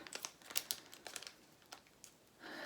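Crinkly plastic rustling and crackling in several short bursts, close by and fairly quiet, ending in a steadier hiss of handling.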